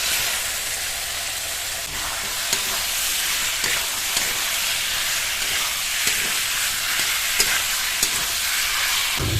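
Vegetables frying in spice paste in a pan, a loud, continuous hissing sizzle with faint stirring clicks, close up and without talk.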